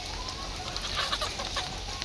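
Chickens being unloaded cluck softly in a group over a steady background hiss, a few short calls scattered across the moment.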